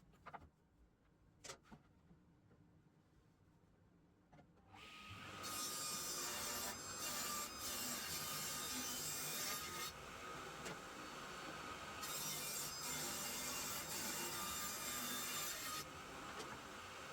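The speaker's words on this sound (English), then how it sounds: "start trimming it down so I can have pieces to create a frame" An offcut of wooden board is trimmed down, a few light knocks giving way to a loud, steady rasping cut that runs continuously for over ten seconds, close and harsh, with no talking.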